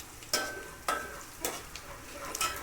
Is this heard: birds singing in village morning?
no